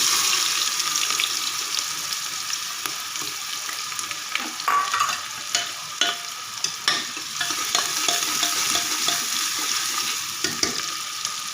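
Onions dropped into hot refined oil sizzle and fry steadily, with stirring clatter and occasional scraping knocks in a home kitchen, close and fairly loud with no talking.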